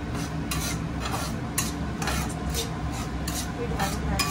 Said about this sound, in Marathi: पीठ भाजायचं